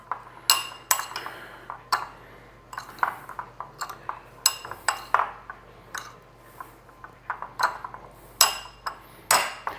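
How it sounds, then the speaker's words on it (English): Metal spoon clinking and scraping against a pot or bowl while stirring salt and pepper into roasted cherry tomato pasta, with irregular close taps and clinks throughout and no talk. "The salt and pepper is really to taste. And you want to just stir that."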